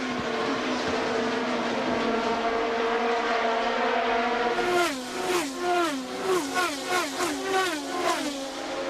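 IndyCar race cars at Phoenix in 2004 scream past on the oval, first a dense high-pitched roar of the pack, then a rapid string of individual cars whooshing by with falling Doppler pitch.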